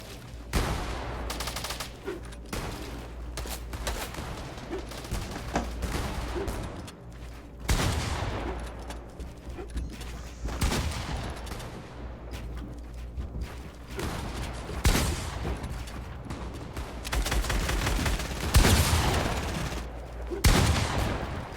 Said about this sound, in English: I'm looking for big pump shots.